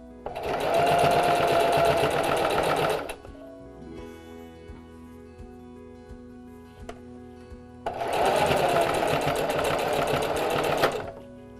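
A sewing machine runs in two loud bursts of fast stitching on face mask ties, separated by a quieter pause with faint clicks and mechanical noise, securing the seam back and forth.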